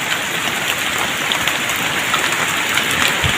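Heavy outdoor rain during a flood beside a fishing spot under a tree, a loud, dense, unbroken hiss of drops hitting surfaces with no pauses.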